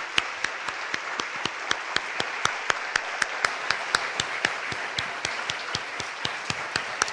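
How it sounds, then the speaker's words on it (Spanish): An audience applauds at a Sunday gathering: a steady wash of clapping with one sharp, evenly paced clap standing out in a regular rhythm, held at a constant moderate level without talk. "¿Por qué no les damos un aplauso a estas personas?"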